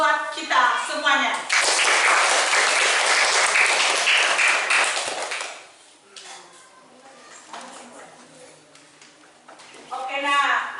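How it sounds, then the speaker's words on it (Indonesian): A children's class in a primary school physical education lesson bursts into loud clapping and cheering, lasting several seconds, then fades into quieter voices before another burst of talk and noise. "tepuk tangan buat kita semuanya."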